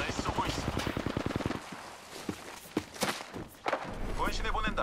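Rapid automatic gunfire in the video game Apex Legends, a fast burst of loud shots followed by scattered single impacts and thuds, with a voice speaking over parts of the action.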